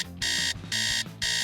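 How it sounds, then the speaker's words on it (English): A phone alarm rings in three loud, steady electronic bursts separated by short gaps, with a lower tone pattern running beneath and no talking. "she didn't hear her alarm on her phone ringing"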